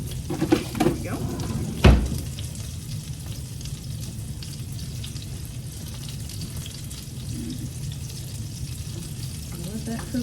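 Peanut pork fries in a pan with a steady, close sizzle that runs throughout, broken once by a single loud clank of utensil on cookware near the start.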